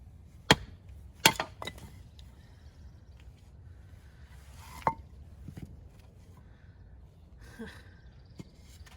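A few sharp knocks of a light hammer striking a green wood blank, irregular and widely spaced, fairly quiet in a still setting.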